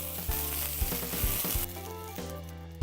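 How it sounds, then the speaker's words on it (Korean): Green parts of Korean leek fry in oil, giving a close, steady sizzle with a few soft stirring knocks under it. "기름을 두르고요 파를 넣고 불을 내겠습니다"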